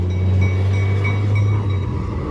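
Loud steady low rumble of the first tourist train of the season on Vancouver Island passing close by, a continuous heavy drone with faint high tones above it.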